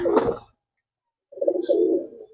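Murshidabadi Tumbler pigeons coo close by, with one short soft call, a pause of nearly a second, then a longer low, rolling coo in a quiet room.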